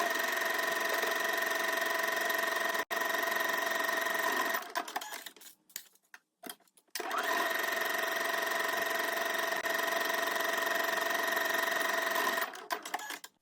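A sewing machine stitches the side seams of a dress sleeve in two loud, steady whirring runs. A brief pause falls between them, with quiet handling noise during the gap.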